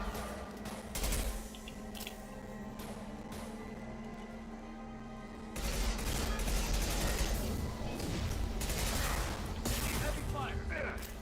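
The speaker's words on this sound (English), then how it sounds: "Heavy fire." Heavy gunfire in the video game Mass Effect 2, with dense rapid shots and mechanical clatter running continuously and growing louder partway through, while a voice speaks over the combat.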